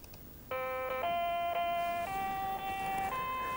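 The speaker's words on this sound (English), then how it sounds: "Let's hear the national anthem." An Acorn computer from 1990 plays the French national anthem as a melody of clean synthesized beeping tones, a few sustained notes stepping upward, moderately loud with nothing else audible.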